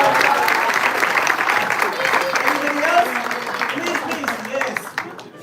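Audience applause at an evening devotional drama and celebration, steady dense clapping across the whole stretch with voices and cheers mixed in, fading slightly near the end.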